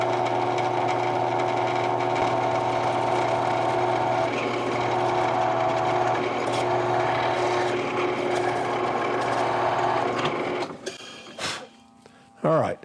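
A wood lathe drills a starting hole in the shaft of a hollowing ring tool with a steady mechanical whir and tonal hum that runs on, then winds down, ending with brief clatter.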